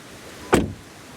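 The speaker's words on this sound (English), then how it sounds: "Door closing sound." A Volkswagen Taigo coupe-style SUV door shuts once with a single solid thud, close and short, followed by a quiet background.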